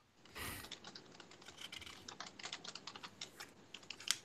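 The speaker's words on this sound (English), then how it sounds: "All the typing is happening." Rapid typing on a computer keyboard, a quiet flurry of irregular clicky keystrokes close to the microphone with no talk over it.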